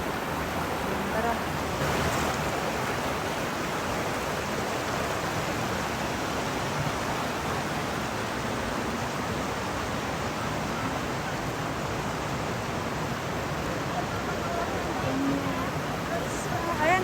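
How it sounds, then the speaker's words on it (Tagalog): A strong current on the Palakol River in Floridablanca, Pampanga, Philippines rushes as a constant broadband wash, steady and moderately loud throughout. "malakas ang agos dyan"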